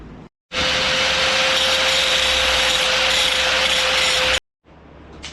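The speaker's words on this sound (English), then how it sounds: "I'm gonna get these last couple tack welds just ground down" An angle grinder grinds down tack welds on a drift quad, a loud continuous harsh whine lasting about four seconds between short gaps, close up and with no talk.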